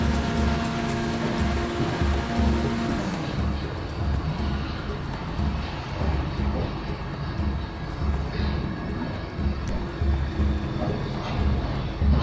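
Toyota AE86 Trueno engine in GTA 5 during a test drive with light drifting, a steady droning engine note that rises and shifts in pitch, loud and continuous with game ambience.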